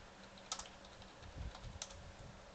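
Keyboard typing for a text parser in the Space Quest adventure game, a few quick clustered keystrokes close up and fairly quiet, with low room rumble beneath and no talking.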